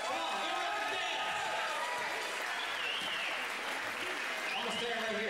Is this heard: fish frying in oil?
no